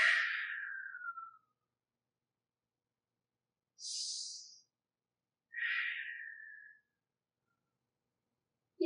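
Someone doing a seated spinal twist takes three slow, airy breaths, each a soft, close hiss or sigh separated by stretches of silence.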